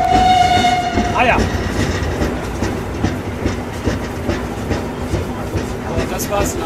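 Riding behind the GtL 4/4 steam locomotive 98 886 on the Fladungen–Mellrichstadt line, a shrill whistle sounds first, then the carriages rattle on with rhythmic clickety-clack wheel beats on the rails, loud and close.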